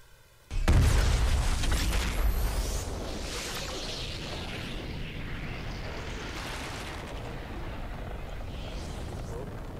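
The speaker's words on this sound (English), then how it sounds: "The Big Bang video that's happening right now." A Fortnite Big Bang live event in the video game opens with a sudden deep boom, then a loud roaring wash of explosions and whooshes that eases into a sustained rumbling drone.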